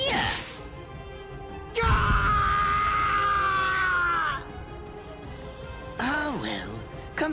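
A man screams in pain in the video game Bleach Rebirth of Souls, a loud sustained strained cry lasting a few seconds, followed after a pause by a shorter wavering groan, set against a low game background.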